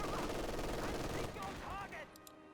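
Machine-gun fire from an MG42 in the WWII strategy game Company of Heroes 2, with a dense rattle of gunfire and battle noise filling the first second or so before thinning out, mixed with other game sounds.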